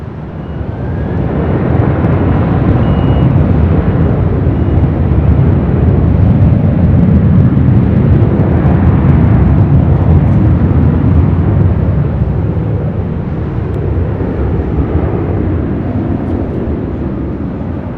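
A Delta jet airliner taking off from runway 24 left at LAX makes a loud, broad engine roar that builds, holds strongly for several seconds, then slowly fades as it climbs away.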